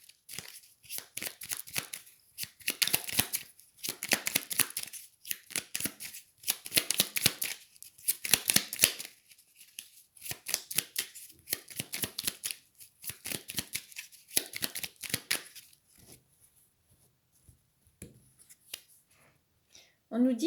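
Oracle cards being shuffled for a reading, with steady repeated riffling and flapping bursts close by that slow and thin out toward the end.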